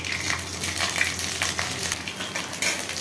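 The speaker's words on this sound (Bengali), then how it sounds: "আদা আর কাঁচা লঙ্কাকে ভালো করে ভেজে নিচ্ছি" Ginger and green chili paste fries in hot oil with whole garam masala, giving a close, steady sizzling hiss with faint stirring for a few seconds.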